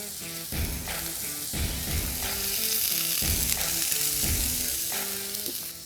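Smashburger beef balls drop onto a griddle spread with beef tallow and sizzle loudly and steadily, with spatula scrapes and clunks repeating over a continuous frying hiss; no talking.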